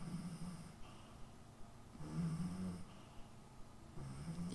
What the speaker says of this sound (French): Et mon chien qui ronfle toujours.